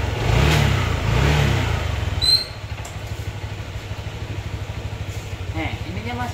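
A 2022 Honda Vario 160 motorcycle engine revs up twice near the start, then settles into a smooth, steady idle close by, with people talking over it.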